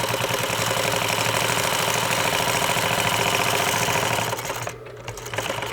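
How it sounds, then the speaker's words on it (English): A sewing machine stitches a half-inch seam on fabric, its needle running in a steady, rapid mechanical chatter for several seconds before briefly pausing and starting up again, close and alone. "Hold your fabric in position and sew your 1/2 inch."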